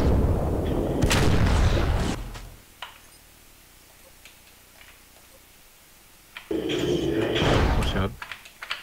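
Mech launching missile salvos in the MWLL (MechWarrior: Living Legends) game during a Chaos March match: two loud, dense bursts of blasting and rumble separated by a quieter stretch of low background noise.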